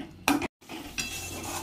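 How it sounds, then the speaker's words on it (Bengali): Spice masala with ginger-garlic paste frying in a pan, heard as a soft, continuous sizzle broken by a sharp scrape of a spoon against the pan, then a brief silence before the sizzle returns. "দিয়ে একটু ভালো করে ভেজে নেব মশলাটা"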